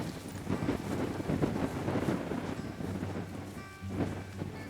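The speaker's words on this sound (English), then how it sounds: "It's really windy." Strong wind buffets a microphone on an exposed hilltop, a loud continuous roar with gusty surges and low rumbling, no voices.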